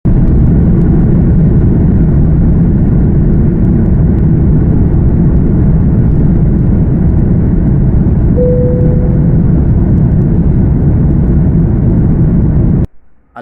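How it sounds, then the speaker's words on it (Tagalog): Steady, loud low roar of an airliner in flight on a route from Riyadh to the Philippines, heard from inside the cabin as a continuous engine and air drone that cuts off abruptly at the end. "at nakalipad na po ang ating sinasakyang eroplano"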